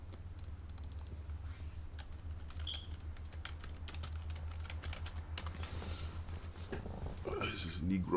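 Typing on a computer keyboard, a steady run of quick clicks over a constant low hum, with background talk through much of it and louder clatter near the end.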